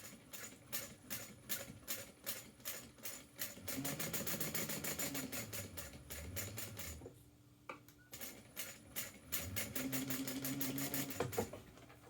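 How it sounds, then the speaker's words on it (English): Sewing machine top-stitching across a fabric seam, a steady rapid stitching rhythm that speeds into long continuous runs, pauses briefly, then resumes, close and clear with no talk. "we're going to top stitch across that"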